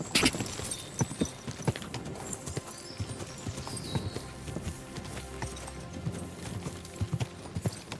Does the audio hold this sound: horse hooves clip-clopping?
yes